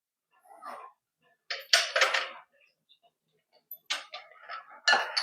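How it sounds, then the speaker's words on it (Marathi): Split mustard seeds being spooned into a bowl of raw karonda pickle, several short dry rattling pours and clinks of a spoon against a container, close and separated by silence. "त्याच्यामध्ये मोहरीची डाळ घालून घ्यायची आहे"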